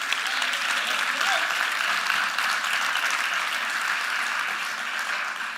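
A church congregation at a Sunday gathering applauds, a steady, dense wash of many hands clapping that holds at full strength throughout and tapers slightly near the end.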